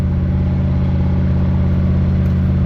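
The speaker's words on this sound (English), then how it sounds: "I don't know what the exhaust sounds like to you guys, but on video, it sounds like a Harley to me" A 1967 Chevy C40 truck's engine runs at a steady, low, throbbing exhaust note, loud and close, with an even rumble and no break or talk throughout.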